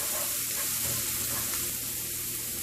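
Ginger and garlic frying in hot oil with cumin seeds in a pan for Punjabi matar paneer, giving a steady, dense sizzle that stays close and even throughout with no voices.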